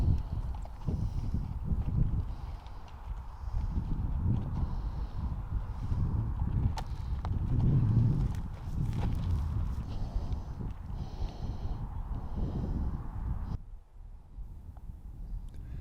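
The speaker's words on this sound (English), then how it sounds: "I'm just riding on my horse in Spain" Horse hooves clip-clop at a steady walking pace on a disc golf course in Mijas, Spain, close and moderately loud, with wind and faint rustling around them.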